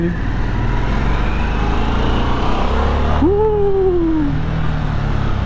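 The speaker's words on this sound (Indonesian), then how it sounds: "Coba ya, kita dengerin suaranya ya. Ini masih gigi 1." A 2022 Harley-Davidson Sportster S engine rumbles in first gear while riding, a loud, close, continuous low drone with a brief whining tone sliding down partway through.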